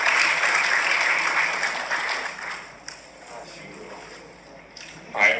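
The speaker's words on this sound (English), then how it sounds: "Let's give her a round of applause." An audience gives a volunteer at a life-coaching talk a round of applause, the clapping loud at first and then fading to a lighter patter with a few cheers before picking up briefly at the end.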